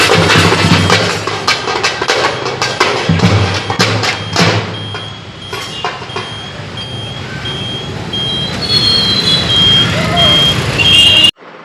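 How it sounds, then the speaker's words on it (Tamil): Heavy road traffic in a Tamil Nadu town: a dense wash of engines and horns with intermittent thumps, a truck's reversing beeps and a voice speaking over the loud, continuous din. "சரியான டிராஃபிக் இன்றைக்கி."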